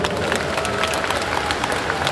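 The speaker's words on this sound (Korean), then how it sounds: "다시 한번 조정식 의장님께 큰 박수 부탁드립니다." A large crowd at a Korean party national convention gives the chair a big round of applause, a thick, continuous roar of clapping at full strength from start to finish.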